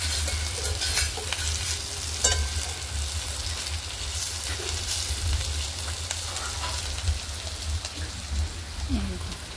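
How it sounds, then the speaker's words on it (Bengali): Food frying in a pan is stirred, a continuous sizzle with scraping stirs, while rain patters in the background. "এখানে আমি একটু নেড়ে দিচ্ছি আর কি"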